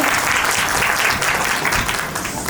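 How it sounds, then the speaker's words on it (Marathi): Guests at a baby shower applaud the baby's aunt with loud, dense, continuous clapping close by that fills the whole stretch. "मावशीसाठी जोरदार टाळ्या वाजवायच्या"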